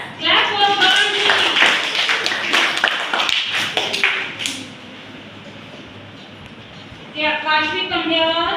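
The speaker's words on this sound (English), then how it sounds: "Clap for Koranji" Group of children in a classroom during a flashcard spelling lesson clap together in a quick burst of many sharp overlapping claps, loud and close, after a voice and before a teacher speaks again.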